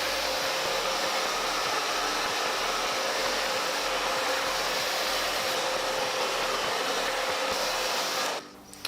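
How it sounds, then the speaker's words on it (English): A Drybar blow dryer drying damp hair gives a loud, steady, close whirring rush that holds evenly for several seconds before switching off abruptly near the end. "I'm actually gonna take the blow dryer to it. I've got the dry bar blow dryer here."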